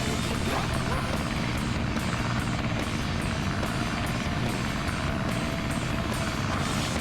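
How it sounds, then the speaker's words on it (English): Propeller plane in Sonic Adventure, a continuous loud droning engine hum with a dense even buzz that holds steady throughout, no speech over it. "This plane's cool!"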